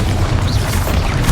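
A Bombarda blasting spell in Hogwarts Legacy goes off as a loud, close, booming explosion, a brief, heavy rumbling burst.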